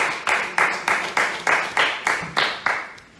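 An audience claps in a steady, rhythmic beat, about nine even bursts of group clapping, loud and close, with nothing else over it.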